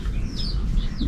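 Chickens cluck and chirp nearby in a countryside tomato garden, with short rising calls over a low, steady rumble of background noise.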